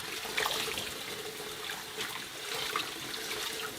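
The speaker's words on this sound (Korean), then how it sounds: "찬물에 살살 흔들어 가면서 한 번 정도 헹궈 주세요" Perilla leaf shoots being gently swished and rinsed by hand in cold water, a steady close sloshing and trickling of water throughout with small splashes, no talking.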